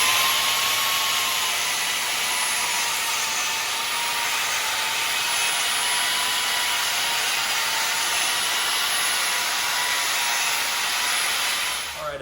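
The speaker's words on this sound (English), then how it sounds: "So I'm going to go ahead and turn the vacuum on." A shop vacuum runs steadily while cleaning out cracks in a concrete floor, a loud continuous broadband roar with a high whine holding for about twelve seconds before cutting off at the end.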